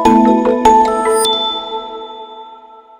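A bright notification bell sounds a quick run of metallic dings and chimes, then leaves a long ringing tone that fades out. It is fairly loud and heard alone.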